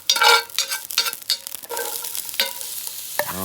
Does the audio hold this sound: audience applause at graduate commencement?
no